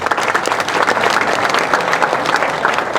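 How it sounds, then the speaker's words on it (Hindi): Loud, dense crowd applause at a political rally in Haryana, India, steady clapping from many hands filling the space without a break. "इनके लिए बहुत जोरदार तालियां बजाओ।"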